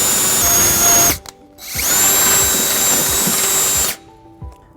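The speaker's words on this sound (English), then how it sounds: "there is not an existing hole in the frame, so we're going to have to drill that" A power drill bores a half-inch hole through the steel frame of a 2014 Nissan Sentra during a trailer hitch install, running loud and steady for about a second, pausing briefly, then grinding on for roughly two more seconds.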